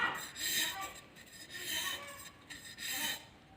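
A blade scraping down a thin wooden strip, soft repeated rasping strokes in a steady rhythm, close but quiet, with faint talk in the background.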